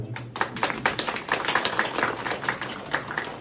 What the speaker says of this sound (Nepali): उहाँको नाम पुरा लिन नपाउँदै हल्ले ताली बजाएर पारित गरिसकेको छ